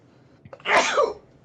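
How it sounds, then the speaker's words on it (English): A single loud, explosive human sneeze, close by, with a short breathy lead-in and no talking over it. "I have old man sneezes."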